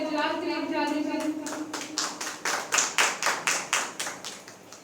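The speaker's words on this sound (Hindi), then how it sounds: "जोरदार तालियां खुदा के जलाल के लिए बजा दीजिए।" A church congregation at a prayer meeting claps loudly in a steady, even rhythm of about ten sharp claps, following a brief moment of spoken voice at the start.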